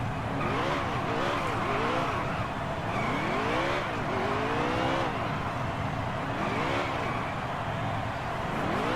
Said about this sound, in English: There we go, we'll give a couple of burnouts.